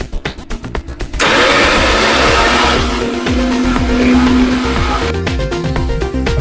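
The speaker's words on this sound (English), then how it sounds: "this is the beans in the blender. As you can see, my onion, my bell pepper, ginger, garlic. I'm gonna turn it on." A kitchen blender whirs at full power through beans, onion, bell pepper, ginger and garlic for moimoi, starting after a few clicks and running loud and steady to near the end, then stopping.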